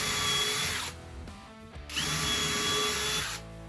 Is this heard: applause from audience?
no